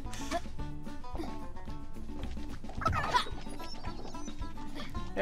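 Chickens clucking in Super Lucky's Tale, repeated short clucks over a bouncy game music backdrop, with a brief louder burst midway.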